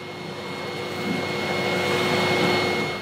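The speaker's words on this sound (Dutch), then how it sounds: "We gaan hier een beetje kabel maken met de stofzuiger." Steady whining drone of a vacuum cleaner running indoors, close and continuous with a slight rise in intensity partway through, no talking.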